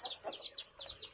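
A hen clucks in short, close, repeated calls in a quiet outdoor spot, with no talking.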